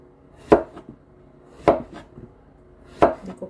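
Knife chopping through a giant upo (long squash): three sharp, separate blows about a second apart, each followed by softer knocks, close and clear with no talk.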